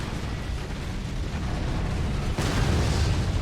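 Continuous explosions from the Forts real-time strategy game with the Birdies mod form a dense, rumbling barrage of booms that thickens near the end, with no talk.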